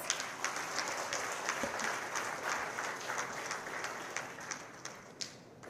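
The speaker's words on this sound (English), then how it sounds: "please give me a round of applause" A crowd at a formal ceremony applauds the unveiling of memoranda of understanding, a steady wash of many hands clapping with occasional louder sharp claps, no talk over it.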